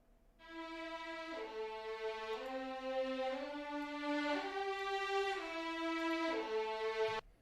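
Strings part played back from an audio waveform, a sustained bowed-sounding ensemble moving slowly between chords, fairly quiet and alone with no talk, ending with a soft cutoff.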